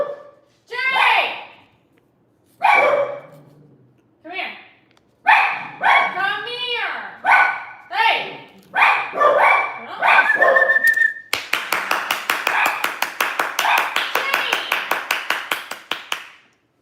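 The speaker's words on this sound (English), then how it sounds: "These dogs don't shut" Several dogs bark in rapid, repeated bursts, loud and close, taking over after a stretch of someone talking and calling them.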